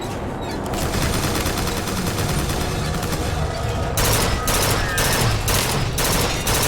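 Bioshock Infinite: Burial at Sea fills with loud, dense gunfire, a continuous roar of rapid shots and blasts that turns into sharper, evenly spaced bursts partway through.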